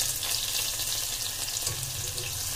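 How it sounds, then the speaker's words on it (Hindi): Chopped onions frying in a pressure cooker for soya biryani give a steady close sizzle with a faint watery crackle throughout, no voices over it. "प्याज डाल दिए, इनको मैं ज़्यादा फ्राई नहीं करूंगी ब्राउन कलर"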